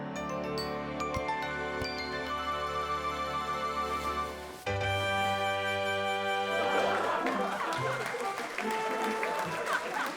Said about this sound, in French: La foule s'est déchaînée pour les tours de Caillou.